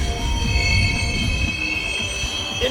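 Train cars roll slowly back into a hump yard track, wheels squealing in high sustained tones over a low rumble and faint rail clicks, steady and continuous at moderate distance.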